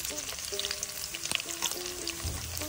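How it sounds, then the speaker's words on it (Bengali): Chopped onion and green chilli frying in hot oil, a dense crackling sizzle with scattered pops and a few faint tonal clinks, close and steady throughout. "তেল গরম হয়ে গেছে। তো এবার আমি দিয়ে দেব পেঁয়াজ কুচি, মরিচ কুচি।"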